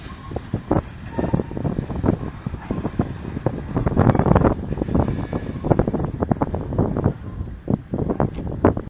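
A train passes through Grantham station on the railway line, a continuous loud rumble with repeated clattering wheel beats and some wind buffeting the microphone, no voices heard.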